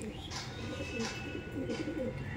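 Black Madrasi pigeons cooing in a loft, soft repeated low coos in a steady rhythm close by, with faint background chatter and a continuous tonal hum.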